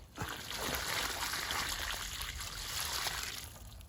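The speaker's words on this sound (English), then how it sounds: "You give it a drop of water." Water drawn from a well at a château trickles and splashes onto a plant, a soft, steady pour that swells and eases over a few seconds, close and alone.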